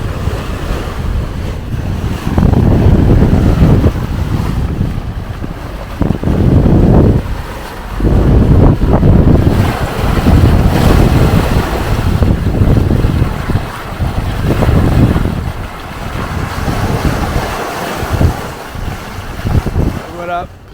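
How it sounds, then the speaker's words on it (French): Boat under way off the west coast of Borneo, with waves and surf washing past the hull and steady wind buffeting the microphone throughout; a voice speaks intermittently over the water noise. "Ah, c'est beau un bateau qui navigue"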